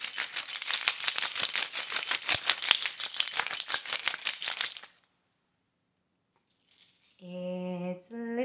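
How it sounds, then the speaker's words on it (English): A bunch of keys jingles and rattles in rapid, bright bursts for about five seconds, then falls silent. A few tonal musical notes follow near the end. "Let's listen to the keys. What sound do they make?"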